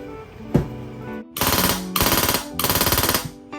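A Polarstar F2 airsoft gun fires close by: one single shot, then three rapid full-auto bursts of crisp, evenly spaced cracks with brief gaps between strings.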